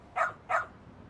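A dog in the video game Lost Judgment gives two short, quick barks in succession, clear and fairly close, with nothing else around them.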